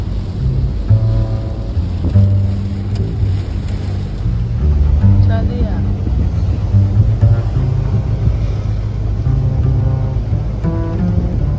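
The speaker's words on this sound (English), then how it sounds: "there's a huge thunderstorm" From inside a moving car on the road to Guwahati, a thunderstorm comes through as a muffled, continuous rush of rain with low rumbling, and faint voices can be heard inside.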